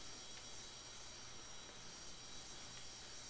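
Jet engines of a Rotate MD-80 airliner in the X-Plane flight simulator give off a steady, faint, even whine and hum that holds unchanged throughout, with no voices over it.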